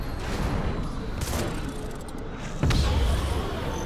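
Swarm missiles fired in the video game Starhawk, a dense roaring whoosh of launches and blasts that swells into a heavier rumble toward the end, under a steady din of battle.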